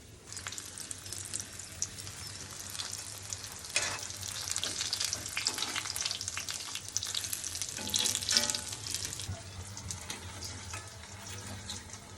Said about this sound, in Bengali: তো গরম গরম পকোড়ি ছাকা হচ্ছে